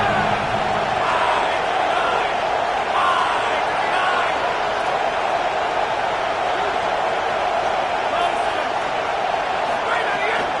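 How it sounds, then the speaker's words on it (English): Roaring stadium crowd in the college football game NCAA 27 during a third-down play in the red zone, a dense sustained cheer with whoops and rising shouts, while a commentator talks over it. "this crowd is at fever pitch"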